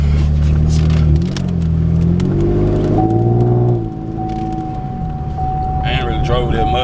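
A 2015 Chevrolet Camaro V6 with its muffler deleted rumbles nearby with a deep, raw exhaust drone that rises and eases slightly, while someone talks over it.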